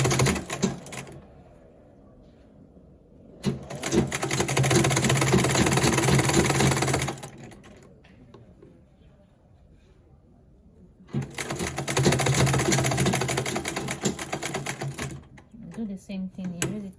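A sewing machine stitches cargo pants in two long, loud, rapid bursts separated by quiet pauses while the fabric is turned, with a short start of stitching again at the end.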